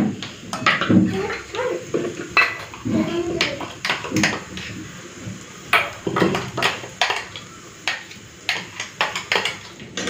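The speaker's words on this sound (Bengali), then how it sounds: "অল্প অল্প জল দিয়ে রসুনটাকে বেটে নিলাম।" Garlic being ground with a little water, the scraping strokes coming in rough, irregular bursts of close, moderately loud grinding that repeat steadily throughout.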